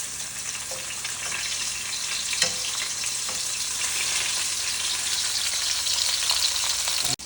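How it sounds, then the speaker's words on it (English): Chicken Milanese cutlets fry in a pan, giving a steady, dense sizzle and crackle that holds loud and close for the whole stretch, with a few faint stirring knocks and no voices. "I like the sound of the sizzle because you know it's cooking well."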